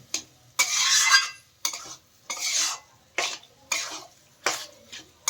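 Boiled whole chana dal is stirred with spices in a pot: about seven separate scraping, sloshing strokes come in an uneven rhythm, close by, with short quiet gaps between them.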